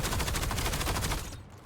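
Rapid automatic gunfire shooting zombies in a video game, a quick burst of dense, evenly spaced shots that stops abruptly near the end.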